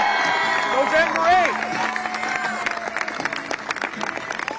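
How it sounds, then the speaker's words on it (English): A rally crowd in Queens claps and cheers for Andrew Giuliani, with sustained applause under a loud voice speaking over it. "Give a big round of applause for Andrew Giuliani."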